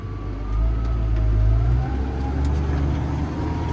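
A tractor pulls a plow across a field in maize stubble. Its engine makes a loud, steady low drone that swells slightly and then settles, heard up close with no talk.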